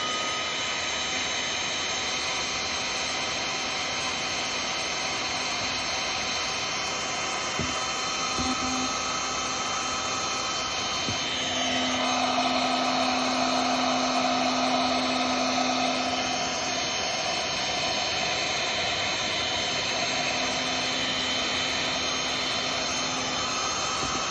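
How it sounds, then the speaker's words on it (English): Electric heat gun shrinking heat shrink tubing onto a boat wire during a lighting upgrade on a Ranger Tug 27, a steady loud blowing hiss and whine that runs continuously with no talking. "I'm going to slide the heat shrink tubing up onto it, and I'll take my heat gun"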